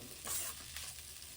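Tomato capsicum rice is stirred in a frying pan, with a soft scrape of the spoon and a faint, steady sizzle close by.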